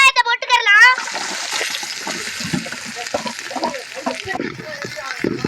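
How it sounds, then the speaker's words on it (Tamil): Chopped onions drop into hot oil in a pan for chicken fried rice, bursting into a loud, continuous sizzle right after a brief spoken phrase, with the crackle holding steady to the end. "வெட்டி வச்ச வெங்காயத்தை போட்டுக்கலாம்"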